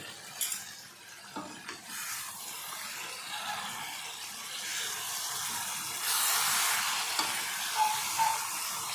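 Food is stirred in a cooking pot while it sizzles, with scraping and clinks of a spoon against the pan over a continuous frying hiss that swells toward the end.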